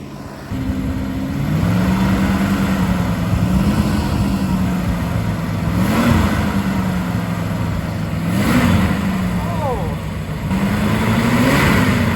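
A 1967 Plymouth Barracuda with a rebuilt Carter BBD carburetor revs repeatedly, the engine climbing and slowly falling back in several blips over an idle, with someone talking now and then.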